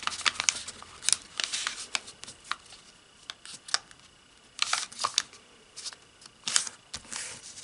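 A square of paper being folded for an origami bowl, with crisp crinkles and sharp creasing snaps in irregular bursts, close and quiet, with no talk.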